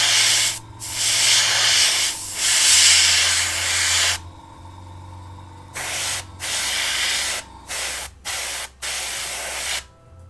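An airbrush sprays metallic pearl paint onto a Tamiya Volvo FH12 1/14 scale RC truck model, a close steady hiss broken into short bursts with quiet pauses toward the end.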